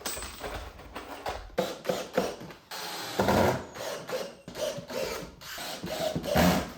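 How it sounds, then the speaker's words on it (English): A screw gun drives screws into a wooden frame while a false wall is built for an IKEA media center, giving repeated close bursts of whirring and ratcheting with short pauses in between. "Just gonna go ahead and screw it to the frame."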